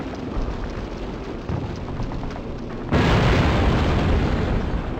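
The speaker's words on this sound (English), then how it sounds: "Explosives, go! Stand back! Fire in the hole!" Explosives detonate in a Call of Duty battle, a sudden loud burst of noise that jumps up and holds as a dense roaring rumble, close and without talk.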